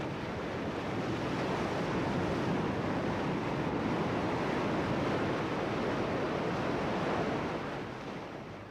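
Ocean waves breaking on a coastline roar in a steady, dense wash of surf with some wind noise, loud and continuous throughout before easing slightly at the end, with no voices.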